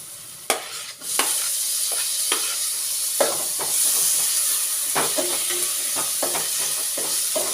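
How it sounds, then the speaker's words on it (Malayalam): Vegetables and tomato sizzle loudly in hot oil in a home kitchen pan, with a steady hiss broken by several sharp clatters and scrapes of stirring, and no talking. "ഇനി നമുക്ക് വെജിറ്റബിൾ ഇടാം, തക്കാളി ഇടാം കേട്ടോ."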